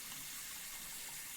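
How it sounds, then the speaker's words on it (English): Steady, soft wash of running water from a video game, a continuous broadband gush at low level with no pauses, heard alone without talk. "And I can hear the water down the road."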